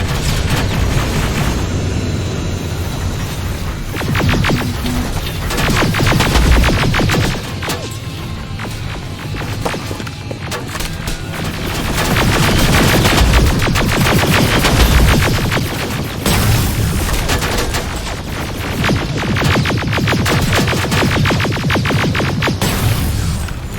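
Dense gunfire in the Terminator: Resistance video game, with rapid automatic bursts, booms and crashes overlapping in a loud, continuous firefight.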